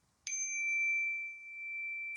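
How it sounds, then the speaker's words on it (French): Small Japanese orin bells struck once, giving a clear sustained ring that hangs and slowly fades, followed by a second strike at the end, in a quiet indoor meditation setting with no talking. "il y a des petites cloches. C'est des petites Orin."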